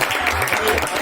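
A crowd claps together at a school alumni reunion gathering, a brief, dense burst of hand clapping with a voice audible beneath it.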